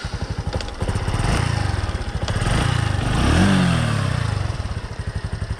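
A small motorcycle engine fires on its electric starter and settles into a close, loud, rapid putter, then swells briefly with a rev before dropping back to a steady idle.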